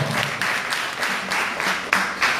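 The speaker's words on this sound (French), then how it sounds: "Est-ce qu'on peut applaudir très fort?" Steady applause from a forum audience at a digital-jobs panel in Porto-Novo, a dense, sustained clapping with small surges, heard alone with no talk over it.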